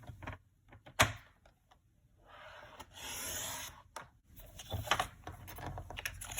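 A paper trimmer slices cardstock in half, with a short sharp snap and a few soft scraping and rubbing strokes, quiet and close.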